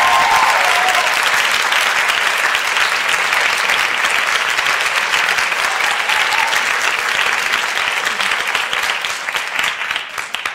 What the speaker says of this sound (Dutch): Nou, dat is een enorm applaus.